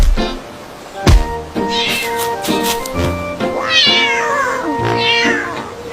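A cat meows repeatedly at close range, several rising and falling mewing calls over about six seconds, loud and clear with no talking over them.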